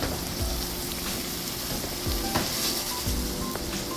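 Shredded cabbage fries in a pan over a cranked-up open fire, sizzling loudly and continuously with crackling pops and occasional stirring scrapes, close up and alone.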